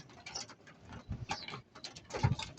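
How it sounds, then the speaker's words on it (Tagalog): Hungry pigeons left unfed for two days, making soft scattered coos, flutters and pecking patter close by, faint and irregular with no talking. "Grabe yung kalapati natin mga kaibon."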